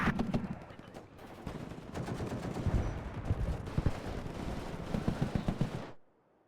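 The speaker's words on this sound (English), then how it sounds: "Okay, we are bombarding this area." Artillery bombardment and rapid gunfire in the WARNO video game form a dense, sustained barrage of sharp shots and heavy thuds, loud and continuous, cutting off abruptly near the end.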